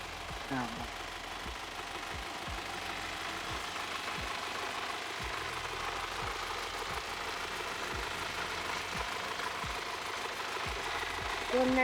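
A heavy Isuzu five-metre cargo truck engine idles steadily close by, with a regular knocking pulse running through its low rumble.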